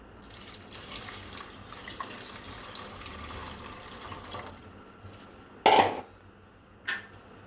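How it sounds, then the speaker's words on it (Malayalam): Water poured into a pot of home-cooked Kerala rasam, a soft running trickle through most of the stretch, then a louder splashing pour and a short final splash near the end. "വെള്ളം ഒഴിച്ചു കൊടുക്കാം."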